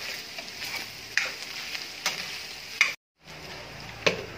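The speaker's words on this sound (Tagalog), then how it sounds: "Haluin lang natin yan para pumantay yung kanyang pagkakaluto." Pork and red onions frying in a pan for Ilokano-style dinuguan with papaya, with a continuous close sizzle and sharp stirring knocks of a spatula against the pan at irregular intervals, with one brief gap of silence.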